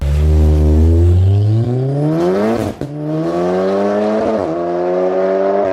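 A loud, tuned 1000+ bhp Volkswagen Golf RSR engine revs up steadily in pitch, briefly drops as it shifts gear, then climbs again, close and continuous.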